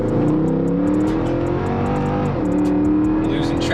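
A Mercedes C63 on stock mufflers accelerates hard, its engine roaring loud and close with rising pitch that dips and climbs again as traction slips, while a voice talks over it.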